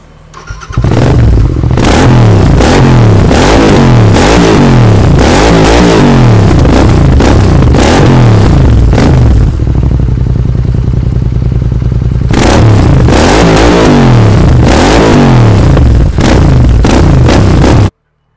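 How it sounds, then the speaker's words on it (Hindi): A Royal Enfield Continental GT 650 with an aftermarket exhaust revs hard and close, its loud throbbing engine rising and falling in repeated blips, then idling briefly before revving again. "अगर कभी आपको इसमें आफ्टर मार्केट एग्जॉस्ट लाएगा तो काफ़ी अच्छा रिस्पॉन्स है एग्जॉस्ट का, मैं आपको सुनाऊंगा"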